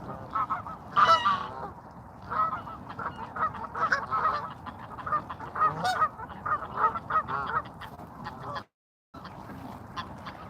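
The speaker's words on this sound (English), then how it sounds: "Geese honking." Flock of geese honking at sunset, a busy overlapping chorus of nasal honks and quacks at moderate distance, repeating irregularly throughout with a brief silent gap near the end.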